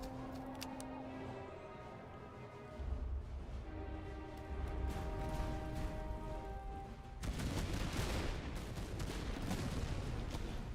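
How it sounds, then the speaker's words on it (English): Grenadiers in the video game Master of Command fire their muskets in ragged volleys, cracking and booming over a marsh battlefield, the firing swelling into a dense, loud fusillade near the end. "These grenadiers are just going for it. No, they're firing."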